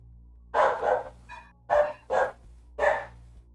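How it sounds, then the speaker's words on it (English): A dog barks aboard a ship during a tabletop role-playing session, five sharp, moderately loud barks spaced out over a few seconds against a quiet background hum. "the sound of a dog barking aboard"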